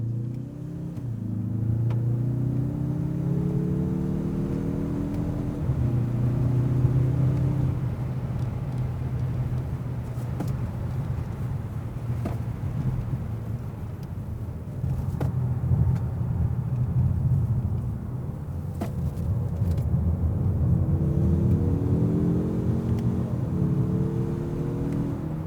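A 2021 Mazda3 Turbo AWD on the road, heard from inside: a continuous low engine drone and tire roar, rising and falling in pitch as it accelerates and shifts, no voices.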